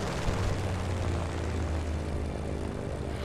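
A propeller airplane in Just Cause 3 comes in to land, its engine a steady, loud drone that holds at close range with no letup throughout.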